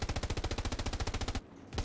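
Rapid automatic gunfire in Hell Let Loose: a long, steady burst of evenly spaced shots at close range, loud and sharp, then a brief pause before firing resumes.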